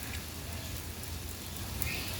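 Steady rain falls at the San Diego Zoo in Balboa Park near the monkey enclosure, a continuous soft wash of drops with low outdoor rumble throughout.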